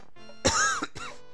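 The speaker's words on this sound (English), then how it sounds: "I don't know why I'm coughing so much" A man coughs and clears his throat while playing Super Mario All Stars, two short rough bursts close to the microphone over quiet game sounds.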